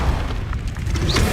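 The Incendio fire spell cast in the video game Hogwarts Legacy, a loud, brief whooshing fiery burst with a low boom, filling the short moment with no talk.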